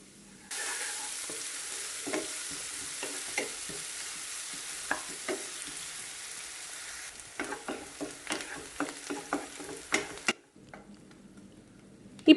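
Sliced onions sauté in oil in a pan for fish curry, starting with a sudden steady sizzle and then a series of sharp scraping knocks as a spatula stirs them, before the hiss abruptly stops.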